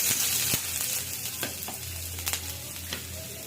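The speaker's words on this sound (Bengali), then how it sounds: "অল্প তেলের মধ্যে নমনম করে ভাজতেছি" Chopped garlic and a small chopped onion fry in a little oil with a close, steady sizzle. Several sharp clinks and scrapes from stirring cut through the sizzle.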